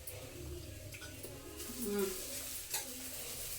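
Grated carrots for carrot halwa fry and get stirred in a pan, giving a soft sizzle with scraping, clinking stirs under steady background music, fairly quiet throughout.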